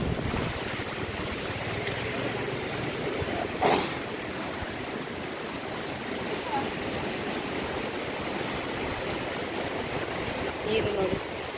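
Water from a stream rushes in a steady, full broadband wash close by, with wind buffeting now and then and faint voices in the background.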